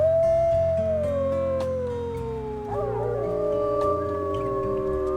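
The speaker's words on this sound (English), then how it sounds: "Let's howl for Diamond" Wolves in the video game WolfQuest howl together, with long sustained tones that slide and overlap as several voices join, steady and prominent with a low game-music bed beneath and no talking.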